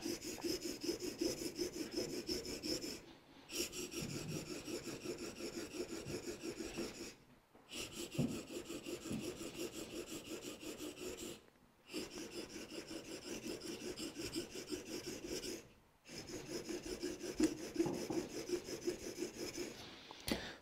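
A hand plane blade being honed on a 600 grit sharpening stone, with repeated rasping strokes in four long bursts separated by brief pauses.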